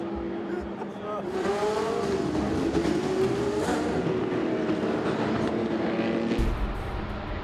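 Porsche 2 Litres Cup classic race cars roar past at Spa-Classic, engines rising and falling in pitch as they pass in a continuous loud blur, with a sharp shift in the noise near the end.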